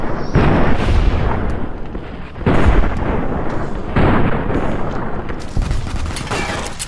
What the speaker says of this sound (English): Best to shoot him in the head.